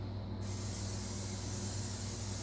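Gluten-free olive oil sprays from a can onto a kitchen pan as a steady, close hiss that starts abruptly and runs without a break.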